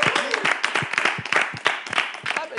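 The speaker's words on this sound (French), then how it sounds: "attention, on va applaudir et recevoir ici M." A studio audience claps and cheers to welcome a guest onto an evening talk show, a dense, steady wash of applause that stays loud for the whole stretch.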